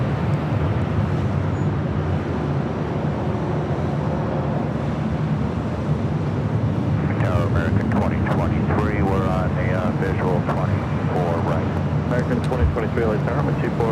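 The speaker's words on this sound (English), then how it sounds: "Delta A330 Neo arrival on the south side." A Delta Airbus A330neo airliner arrives on the south side of Los Angeles LAX, a steady, loud, broad jet roar throughout, with voices talking over it in the second half.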